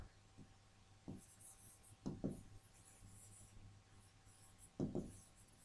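Pen or marker scratching across a surface while a sentence is written, short faint strokes in irregular bursts under a low steady hum.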